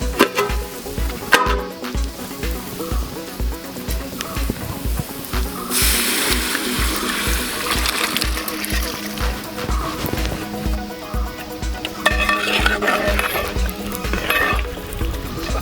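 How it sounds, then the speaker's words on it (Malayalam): Half-cooked rabbit pieces are stirred into masala in a pan for a Kerala-style roast: a steady sizzle with wet scraping and shuffling throughout, fairly close, over a regular low thumping in the background. "ഇളക്കി കൊടുക്കാം."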